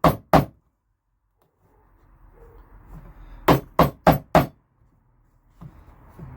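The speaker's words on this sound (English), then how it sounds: "get your chisel on the line, give it a knock" Steel chisel knocked along a marked line on pallet wood, giving two sharp blows, a pause with faint low noise, then a quick run of four hard knocks and a softer one near the close.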